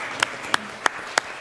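Scattered applause from an audience at a city council meeting in Danville, four sharp, evenly spaced claps in a sparse room rather than a full ovation.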